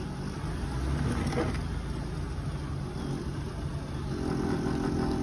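A Nissan minivan engine runs steadily at a low idle after a jump start, a constant rumble with a slight rise in pitch near the end.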